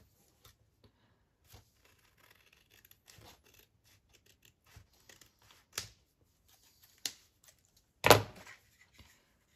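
Scissors trim paper in short, scattered snips and rustles, quiet and close, with one louder cut near the end and no talking.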